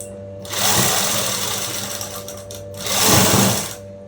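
A sewing machine stitches a folded edge on a dress in two close, loud whirring runs with a brief easing between them.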